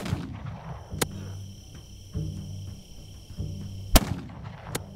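Sharp gunshots in a stealth shooter video game, a loud crack near the start, another about a second in and a heavy double report near the end, over a steady insect-like hum and low rumbling.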